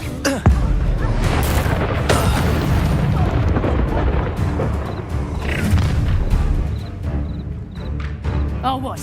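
Fiery Incendio spell blast in the video game Hogwarts Legacy, a loud booming burst amid continuous combat rumble and dense battle noise, with a voice talking over it.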